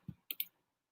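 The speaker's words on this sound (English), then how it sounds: "I can click on create." A computer mouse clicks three times in quick succession, close and crisp, in an otherwise quiet room with no talking.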